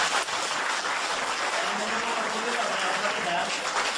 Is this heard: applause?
yes